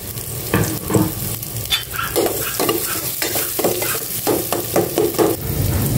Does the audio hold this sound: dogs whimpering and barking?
no